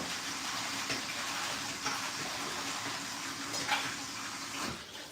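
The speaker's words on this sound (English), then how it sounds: "We need the greenery. We'll get that rinsed." Salad greens rinsed under a running kitchen tap, a steady rushing stream of water with occasional splashes and soft knocks, close and continuous, no talk.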